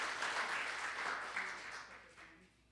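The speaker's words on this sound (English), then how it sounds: "give her a round of applause for me" Audience applause at a Dominguez Channel town hall, a dense wash of many hands clapping at moderate distance that holds steady, then gradually fades away toward the end.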